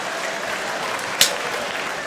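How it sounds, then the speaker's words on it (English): A live comedy stage show audience gives a steady round of applause, a dense wash of clapping that holds evenly for about two seconds, with one brief sharper clap standing out near the middle. "Just a round of applause, my Bristol cider drinking friend."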